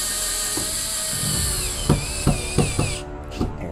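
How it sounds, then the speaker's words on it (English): A power drill drives self-tapping screws into the ceiling of a party bus, giving a brief whirring run followed by several short, punchy bursts close by, over a steady background hum. "Now I can shoot the rest of the screws."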